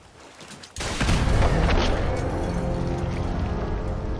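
An explosive trap in Fallout 4 detonates with a sudden loud blast, followed by a long, rumbling roar that stays dense and steady until the end.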